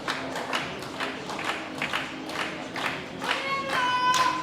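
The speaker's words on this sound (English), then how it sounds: "And the Swedes in the audience clapping and shouting" Swedish spectators at a European equipped powerlifting championship clap and shout in a steady, diffuse crowd wash, rising slightly toward the end with some whistling or cheering tones.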